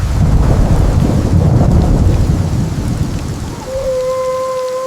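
Heavy rain and rolling thunder from an AI-generated storm scene, a loud continuous broadband roar that eases slightly toward the end, where a faint steady tone appears beneath the downpour.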